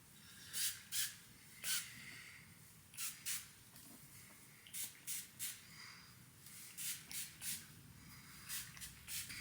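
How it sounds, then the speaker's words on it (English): Repeated short hissing bursts from a spray bottle, close and soft, coming in quick clusters of two or three pumps with brief pauses between. "I use this root lifting spray and I just spray it on my roots."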